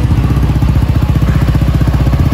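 Motorcycle fitted with a Prospeed Black CNC exhaust with a dB killer installed, a loud, close, rhythmic low-pitched engine pulse with steady throbbing firing beats and no voices.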